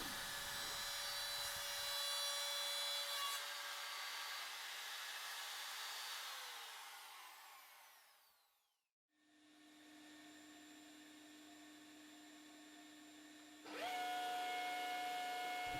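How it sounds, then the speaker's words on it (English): Router cutting dovetail grooves into a board of unidentified wood, a loud, steady high whine that runs for several seconds, spins down to near silence, then starts again with a rising whir at close range. "I started off by routing a straight channel and then going back with a dovetail bit and doing either side of that channel."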